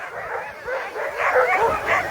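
Sled dogs at the start of a sled dog race yip, whine and bark excitedly in a near, continuous chorus of overlapping calls.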